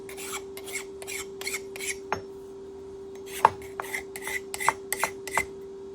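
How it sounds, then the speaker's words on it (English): Hand deburring the edge of a metal wedge workpiece for a steam locomotive cylinder, just out of the vise: a run of short rasping file strokes with a few sharp metallic clinks, close and fairly quiet. "I'll get it out of the vise so I can deburr the edge"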